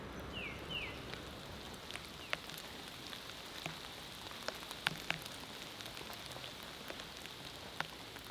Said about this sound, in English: Very rainy today.